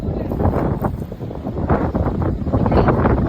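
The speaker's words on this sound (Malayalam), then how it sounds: "നല്ല കാറ്റാണ്" Strong seaside wind buffets the microphone near moored boats on the coast at Kanyakumari, a steady loud roar with gusty swells throughout.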